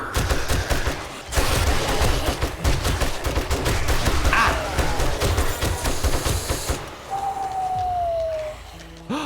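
Rapid automatic gunfire in the video game 7 Days To Die, loud continuous bursts of shots with a brief pause, game sounds and light talk underneath.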